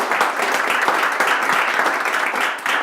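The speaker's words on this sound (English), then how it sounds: "let's give a round of applause for Justin" An audience at a 1 Million Cups Brookings business pitch event applauds in a dense, steady round of clapping that holds at full strength throughout, easing slightly only at the very end.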